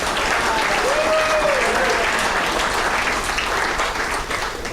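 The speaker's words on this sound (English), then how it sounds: "So give them an applause." Crowd applause at a spring awards banquet, loud and sustained clapping from a room full of guests holding steady throughout, with a brief whistle-like tone rising early on.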